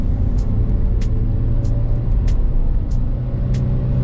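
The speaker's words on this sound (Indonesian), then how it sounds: "Kita oper ke 2 saja agar mobil lebih bertenaga." A car carrying six passengers labours up a steep, winding incline in second gear, its engine a loud, continuous low rumble with faint, regular high ticking above it.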